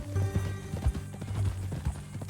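Horse hooves in Red Dead Redemption 2 clip-clop in a steady walking rhythm at close range, with no talk over them.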